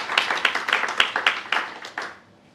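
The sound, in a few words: audience applause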